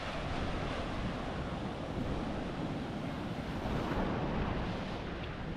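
Ocean surf rolling onto Karon Beach, Phuket, on the Andaman Sea, a steady broadband wash with wind noise buffeting the microphone throughout, no distinct wave breaks standing out.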